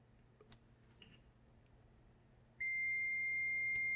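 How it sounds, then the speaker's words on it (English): A cheap multimeter gives a continuity beep while testing a thermal fuse: a steady, thin electronic tone starts abruptly partway through and holds loud to the end, after a few faint clicks of the probes. "this is a cheapy multimeter, so it doesn't sound the best."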